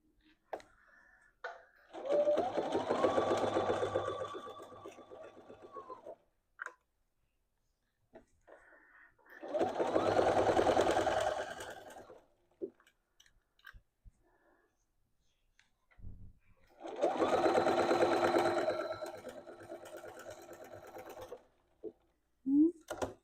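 Sewing machine running a 3/8 inch zigzag stitch on a dress, in three steady bursts of several seconds each, separated by pauses with small clicks and handling noises.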